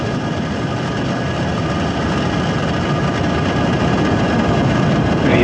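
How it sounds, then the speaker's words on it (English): SpaceX Falcon rocket engines roar at liftoff, a dense broadband rumble that holds steady and swells slightly over several seconds. "Ignitions, engines full power, and liftoff. Go Falcon"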